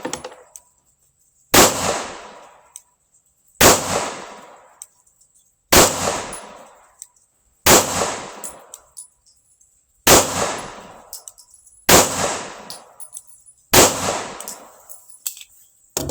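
Smith & Wesson M&P 2.0 pistol fires about eight single shots spaced roughly two seconds apart, each loud, sharp and close with a short ringing decay, and no talking.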